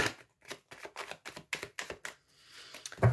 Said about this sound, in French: j'étale mes cartes